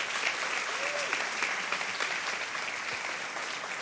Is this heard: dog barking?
no